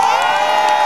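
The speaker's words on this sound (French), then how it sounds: "Applaudissez pour vous-même." Audience cheering and shouting in a brief, loud burst, a dense wash of high excited voices and whoops close by, lasting under a second.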